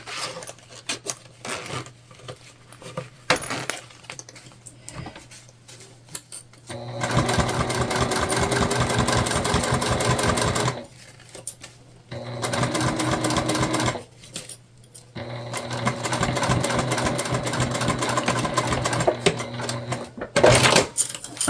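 A sewing machine stitches a crossbody bag in several long runs, its needle hammering in a fast, even chatter, broken by short quiet pauses and light handling sounds between passes.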